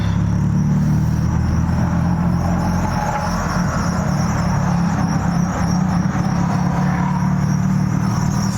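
A Chevy Cruze driving along, its steady low engine and road rumble continuous and fairly loud throughout, with a faint high insect-like whine above and no talking.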